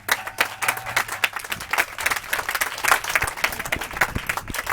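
A church congregation breaks into sustained, dense applause, the clapping loud and close throughout, with a faint voice here and there beneath it.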